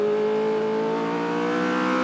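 A 1982 Williams FW08 Formula 1 car engine screams steadily at high pitch, its pitch climbing smoothly as it revs hard, loud and close with no voices.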